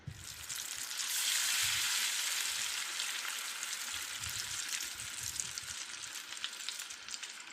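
Butter frying in a pan as a masala base for pasta, a steady bright sizzle with crackling close by, swelling slightly early on and then holding even with no voices.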